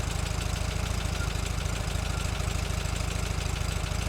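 A 1964 Volkswagen Beetle with an Empi-equipped engine idles steadily close by, a continuous low, even thrum with a rhythmic pulse throughout and no talking.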